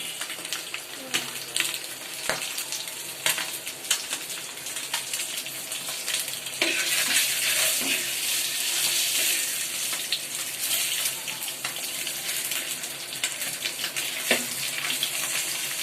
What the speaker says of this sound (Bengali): দেখেন, ডিম তেলে ভাজি করা হচ্ছে।